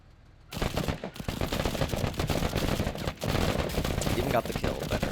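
Sustained automatic gunfire from Marines in a tactical battle game, dense and continuous bursts of shots that start after a brief quiet moment and run loud to the end.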